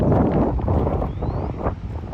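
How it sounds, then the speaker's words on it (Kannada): Strong wind beside the water at Almatti, a fishing spot, blasts straight into the microphone as a loud, continuous roaring buffet with brief gusting surges. "ಯಾಕಂದ್ರೆ ಗಾಳಿ ಭಾಳ ಐತಿ."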